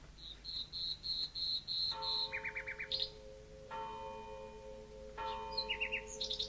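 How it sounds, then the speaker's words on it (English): Repeated bright bird chirps ring out in short bursts alongside a steady cricket-like trill, set against sustained tonal notes and a quiet room background; no talking. "Dratted bird!"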